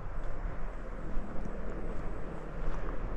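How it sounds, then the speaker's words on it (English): An ATV approaching on a road near a forested campground in Wyoming, its engine a steady low rumble that holds at a constant level throughout without any talk. "Here you can hear an ATV coming right now."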